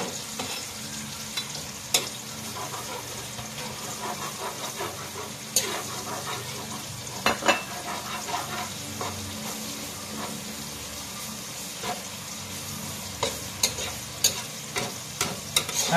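Onions frying in a hot pan while being stirred, a steady sizzle with scraping stirs and occasional clacks of the utensil, close and continuous, prepared for a boodle fight meal.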